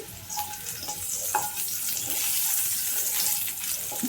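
Potatoes dropped into leftover hot oil in a pan after onions were fried to a red-brown, giving a steady broad sizzle with a few brief clinks and stirring sounds, no voices.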